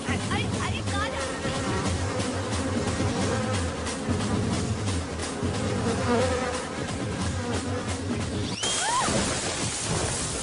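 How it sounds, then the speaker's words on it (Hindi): Honeybee buzzing loudly and steadily throughout, mixed with a busy background and voices, with a sudden sharp crash or burst near the end. "ये मक्खी नहीं मधुमक्खी है।"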